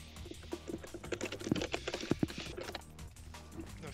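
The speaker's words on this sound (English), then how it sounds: "The furious typing. I love how I can always hear you typing." Rapid, irregular clattering of a computer keyboard being typed on furiously, close and fairly quiet, with bursts of sharper keystrokes during a Counter-Strike gaming session.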